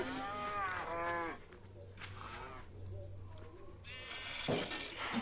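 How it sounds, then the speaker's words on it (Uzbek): A Minecraft cow moos several times in a row, the blocky bovine calls close and clear over a faint, steady background hum. "Hozirgina tushgan sigir."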